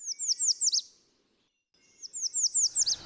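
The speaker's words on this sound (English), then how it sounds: "that song, that really emphatic song, is a redstart" An American redstart warbler sings two emphatic phrases of high, rapid, slurred notes, each ending in an accented downslurred flourish, clear and fairly close, separated by a short silence.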